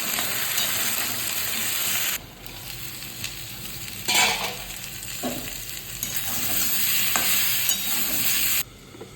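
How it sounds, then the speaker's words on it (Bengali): Pointed gourd and potato pieces fry in a pan with a steady, loud sizzle, broken by stirring scrapes and brief quieter dips, with no voices. "আমি পটলগুলো ভেজে নিচ্ছি, পটল আলু দুটোই।"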